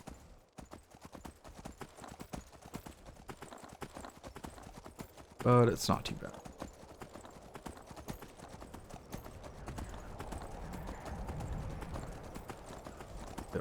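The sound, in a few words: horse hooves clip-clopping in video game Skyrim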